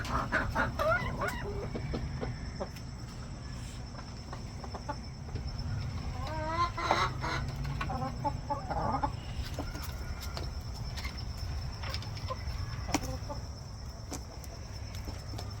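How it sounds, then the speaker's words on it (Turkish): Crossbred hens cluck and chatter in short bursts over a steady low farmyard hum, with a few louder calls standing out midway. "Bu benim tavukların kırması."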